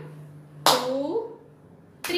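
Two sharp, bright claps, one early and one at the very end, from children clapping along while counting numbers, with a faint voice between them.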